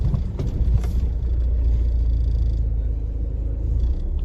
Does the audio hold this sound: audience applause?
no